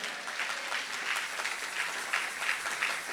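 A church congregation applauds and cheers to acclaim the Lord at a faith gathering, a steady, moderately distant wash of clapping with a few swells, lasting a few seconds.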